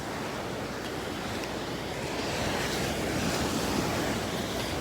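Ocean waves wash continuously onto a beach, a broad steady roar of surf with some wind rushing across the microphone and a slight swell in loudness toward the end.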